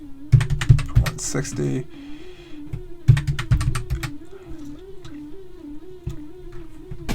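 Quick bursts of clicking keystrokes on a computer keyboard while listing trading cards, close and clear, with someone talking over part of it.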